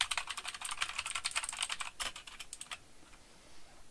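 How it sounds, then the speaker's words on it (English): Rapid clicky keystrokes on a raised mechanical-style computer keyboard, close and crisp in a quick irregular burst for about three seconds before trailing off into quiet. "So like on a clicky keyboard, you know, they're raised up, they make sound, they make noise."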